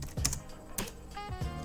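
A handful of close computer keyboard keystrokes tap out a short word in quick, uneven clicks during work on PowerPoint slides, with no talking.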